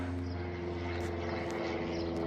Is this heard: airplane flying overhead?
yes